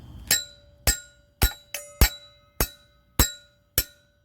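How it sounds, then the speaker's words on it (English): Eight sharp metallic strikes of a hammer on a stuck screw in a pool ladder ring out at an uneven, deliberate pace, each with a bright, ringing tone, close by and with no talking. "I'm just going to hit it real hard with a hammer"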